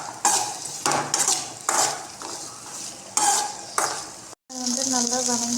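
Tomatoes and onions sautéing in a pan in a home kitchen, with repeated rhythmic stirring scrapes over a soft sizzle, a brief cut, then sizzling resumes.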